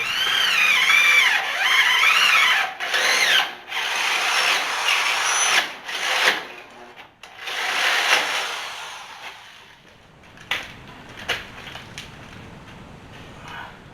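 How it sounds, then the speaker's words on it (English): A loud power drill whines and bites into a rat rod's steering mount in several bursts, drilling a bolt hole, pausing between runs, then trails off into quieter clicks and handling noise. "drill a hole and run a bolt in there"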